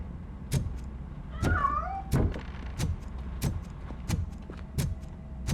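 A single cat meow sounds briefly in Robocop Rogue City, set among steady, evenly spaced thuds like footsteps in the game.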